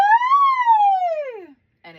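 A single voice imitates a siren as a vocal warm-up, one smooth gliding tone that rises slightly and then falls away, followed by a short vocal sound.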